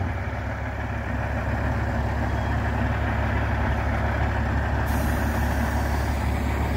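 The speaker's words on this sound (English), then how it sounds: "Nice sounding Peterbilt." A Peterbilt truck hauling a 23-ton load runs with a steady, loud diesel engine rumble that holds nearly constant throughout, with no talk over it.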